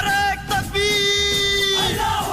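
A crowd shouting a slogan in unison at an Independence Day gathering, one long sustained collective call, loud and near, with a strong leading voice over the group.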